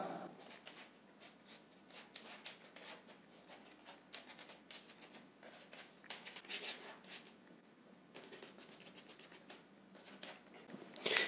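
Chalk or marker drawing a diagram on a board during a thermodynamics lecture, a steady run of short scratchy strokes and taps at moderate level, with no talking over it.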